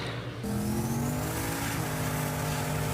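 A Foxbody car roars through a sustained burnout, laying tire stripes with its engine held at high revs and tires screaming continuously throughout, loud and close.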